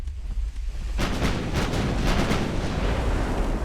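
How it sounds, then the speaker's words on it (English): Secondary guns on a warship firing during a naval battle in Ultimate Admiral: Dreadnoughts: a heavy rumbling roar starts abruptly and carries on, with a rapid series of booming shots layered over the din. "Alright, secondaries fire on that guy."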